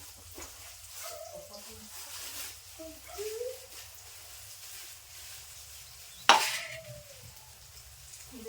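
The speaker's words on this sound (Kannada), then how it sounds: "ಈಗ ನೋಡ್ರಿ ಎಣ್ಣೆ ಬಿಸಿ ಆದ್ರೆ ಇದಕ್ಕೆ ಉಳ್ಳಾಗಡ್ಡಿ ಹಾಕೋತೀನಿ ಈಗ ನೋಡ್ರಿ ಉಳ್ಳಾಗಡ್ಡಿ ಒಂದು ಸ್ವಲ್ಪ ಫ್ರೈ ಆಗ್ತೀವಿ" Onions frying in hot oil in a home kitchen give a soft, steady sizzle under a voice speaking throughout, with one sharp metallic clatter of a utensil partway through.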